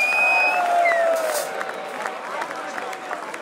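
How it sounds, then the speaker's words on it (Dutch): A festival audience claps and cheers, the applause loudest at first and then thinning into scattered claps, with whistles and crowd voices mixed in. "ik wil toch graag jullie applaus voor al die mensen"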